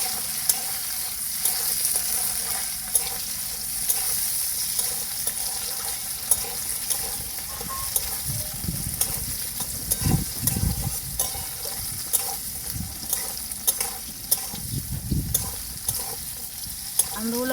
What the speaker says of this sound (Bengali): আমড়াগুলো হালকা করে ভেজে নিয়েছি, নামিয়ে নেব।